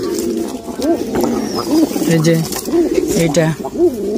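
Rajshahi giribaz pigeons in their loft give repeated throaty coos and rising-falling calls, close and loud. Other background noise runs underneath.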